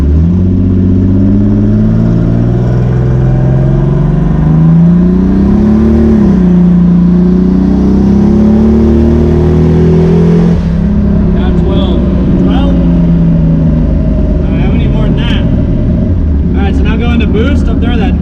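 A turbocharged Datsun 280ZX accelerates hard under boost, its engine droning loud and steady and rising in pitch through the gears, with a brief dip between shifts and a whooshing turbo note near the end.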